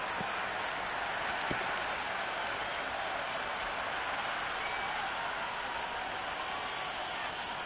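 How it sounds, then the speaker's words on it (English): Crowd cheering and applauding in a cricket video game match, a steady, dense wash of noise that holds at an even level throughout, with no speech over it. "The crowd are really getting quite raucous"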